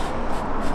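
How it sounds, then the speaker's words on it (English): Bilt Hamber Auto Wheel cleaner being sprayed onto a car wheel, a steady close hiss lasting under a second with no pauses. "Just spray it all up."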